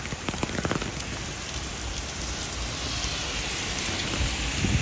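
Heavy rain pours steadily on a stormy night in Duluth, Minnesota, a dense hiss of drops hitting surfaces nearby, growing slightly louder toward the end.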